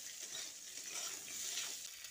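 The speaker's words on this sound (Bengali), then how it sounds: "ফুলকপিগুলো দিয়ে আলুর সঙ্গে আরও কিছুক্ষণ ভেজে নিতে হবে" Cauliflower florets and potatoes fry in a pan with a quiet, steady high sizzle and faint stirring scrapes, continuous and soft throughout.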